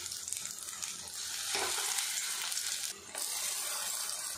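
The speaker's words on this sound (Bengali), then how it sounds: "আর এই সময় গ্যাস রেটটা লো টু মিডিয়ামে রাখতে হবে, রেখে ধীরে ধীরে এগুলো ফ্রাই করতে হবে" Pointed gourd pieces coated in red lentil paste fry in oil over a low to medium gas flame, giving a steady, close sizzle with brief stirring shifts and no talking.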